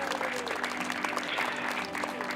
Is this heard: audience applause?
yes